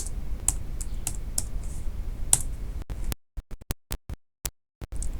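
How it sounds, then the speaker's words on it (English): Clicks from a computer keyboard as a search term is typed into Chrome, starting as faint taps over a low hum and then turning into a loud, separate burst of keystrokes with gaps between them. "So I'll just go to Chrome, type call icon,"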